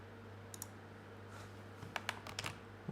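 A computer keyboard ticks in short, faint bursts of keystrokes while a Twitter message is typed, sparse at first and then quicker near the end, over a low steady hum.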